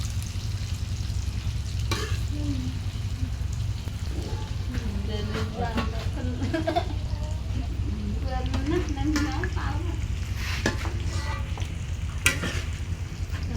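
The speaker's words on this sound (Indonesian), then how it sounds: "Tahune gorengan gede-gede ae, Bek." Tofu frying in hot oil, a steady sizzle running the whole time beneath scattered nearby chatter and kitchen clatter.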